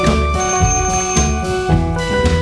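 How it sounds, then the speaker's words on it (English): A bicycle bell rings in repeated bright metallic trills over a steady background, loud and close, as a child rides past on a bicycle. "The sound of bells suggests someone is coming."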